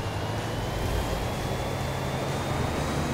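Tesla Cybertruck engine in GTA 5, a steady low rumble with a constant broadband hum holding even and fairly loud throughout, with no talk.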